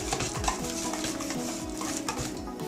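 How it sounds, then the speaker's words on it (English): A whisk beats yogurt and banana cake batter in a bowl, producing rapid, rhythmic clinking and sloshing strokes that stay close and steady throughout. "With the help of a whisk, I'm just going to mix all the ingredients very well"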